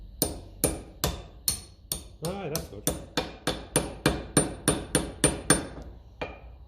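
Steady hammer blows ring out against a part of a 1954 Ferguson TEF-20 diesel tractor, about fifteen sharp, loud metallic strikes in an even rhythm, close up, with a brief burst of speech partway through.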